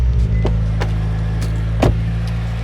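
An old car bought at auction idles after sitting unstarted for a while, its steady engine hum with noisy belts and pulleys running continuously, with a few sharp clicks and knocks over the top.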